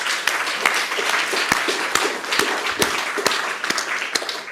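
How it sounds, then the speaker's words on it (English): Applause from an audience at an annual town meeting, a steady patter of many hands with sharper individual claps standing out, sustained at moderate loudness throughout. "So another round of applause for everyone."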